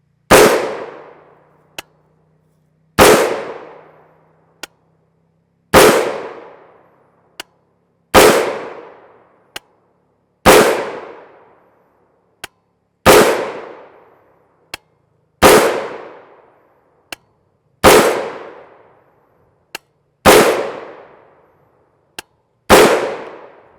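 Rifle shots from a 7.5 inch Palmetto State Armory AR upper firing Fiocchi 5.56 NATO M193 55-grain FMJ: nine loud, sharp cracks spaced about every two to three seconds, each with a brief decaying ring, plus faint clicks between.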